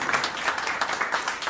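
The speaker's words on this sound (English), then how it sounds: "Let's give her a round of applause." Brief applause from an audience welcoming a County Commissioner at a civic event, a steady dense patter of many hands clapping at moderate level with no break across the short stretch.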